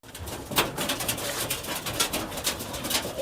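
Pigeons from Uttar Pradesh coo nearby in repeated soft, throaty calls over a busy background of rustling and other birds, with a few sharper bursts standing out.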